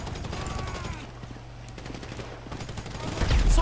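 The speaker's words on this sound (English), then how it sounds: "So I guess we shooting our way out of here." Video game gunfire from GTA 5 during a gold heist mission, a dense burst of shots and loud crackling action sounds, fading briefly then swelling again at the end, with faint voices beneath.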